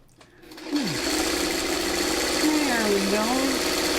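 A home sewing machine stitches quilt blocks for a mosaic tile pattern. After a quiet start it whirs up and hums steadily up close, and a voice is briefly heard alongside it.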